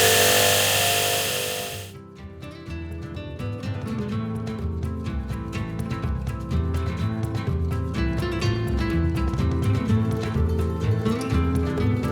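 A belt grinder with a worn 830 grit belt lightly finishes a Damascus K-tip gyuto blade, a loud close whine and grinding rasp that drops briefly when the blade first touches, then runs steadily.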